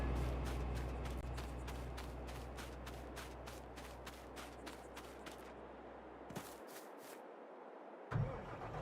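Tractor engine cranking over in Farming Simulator 22: a rapid run of rhythmic starter chugs that catch, then a sudden cutoff, silence and a short thump as the motor fires again, all close and fairly quiet.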